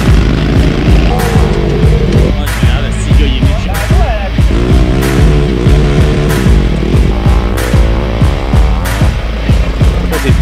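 Racing lawn mower engines at a mower race, loud buzzing engines revving and passing repeatedly up close, with rising and falling pitch sweeps and sharp bursts throughout.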